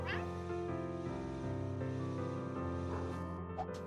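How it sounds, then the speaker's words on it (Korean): A cat meows over a dense wash of game music and effects in The Furring Quest, the calls short and fairly prominent near the start and again toward the end. "여기 고양이 소리 난다 고양이 소리 난다"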